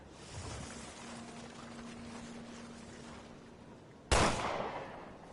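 A single sharp gunshot from the video game Resident Evil Revelations 2 cracks out loudly near the end, following several seconds of quiet ambient hum and a faint steady tone.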